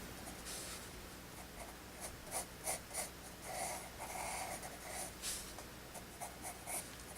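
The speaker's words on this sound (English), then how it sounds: "You just take your eraser, erase it out, make it a little bit shorter." A rubber eraser rubs out pencil lines on drawing paper in quiet, close bursts of scratchy back-and-forth strokes with short pauses between them.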